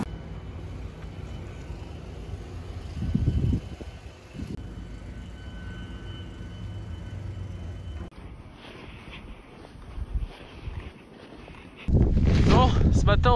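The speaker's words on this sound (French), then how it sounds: "Là, il y a vraiment beaucoup de vent." Strong wind in snowy mountains at Tignes, a rough buffeting roar that surges and drops, hitting the microphone hard in loud gusts near the end.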